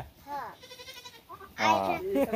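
Native Bengal goats bleat in short wavering cries, one fainter early and a louder, closer burst near the end, with a voice speaking between them.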